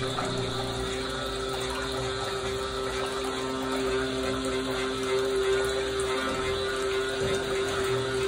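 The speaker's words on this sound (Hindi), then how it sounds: "पंप को पानी के अंदर डुबो के इसको चला देंगे" A submersible pump runs in a tub, circulating water through an instant geyser for pipe cleaning, giving a steady close mechanical hum with a constant tonal whine and a gurgling flow that holds unbroken throughout.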